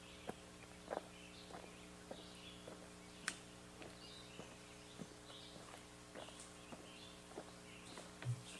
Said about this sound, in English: a footsteps sound effect.